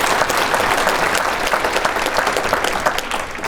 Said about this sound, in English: A big round of applause for Cal.